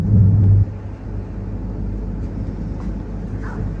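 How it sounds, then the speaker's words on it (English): Interior of a Q train (A753/A754) riding from Choi Hung to Diamond Hill, a steady low rumble of the moving car with a loud hum in the first half second, no voices. "I'm on the Q train again."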